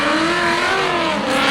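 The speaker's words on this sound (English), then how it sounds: "that's enough drifting for one day" A Toyota Supra race car drifting on a track, its engine howling steadily at high revs for a short burst, loud and close.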